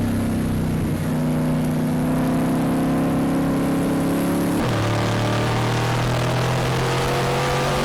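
Cobra race cars in an endurance race on a track, heard as loud sustained engine drones whose pitch holds steady and then drops sharply as one car passes, with no talking.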